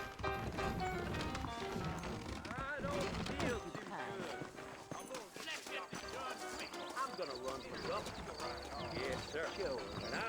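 Horse hooves clip-clop steadily in Red Dead Redemption amid busy game sound effects and music, with a whinny and clattering impacts layered in.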